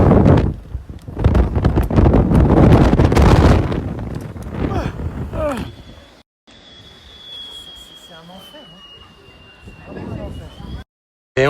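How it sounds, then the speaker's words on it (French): Wind whistles through doors aboard a ferry crossing the English Channel: first heavy buffeting gusts with voices, then a thin, steady high whistle that holds for several seconds. "Vous entendez même le vent siffler."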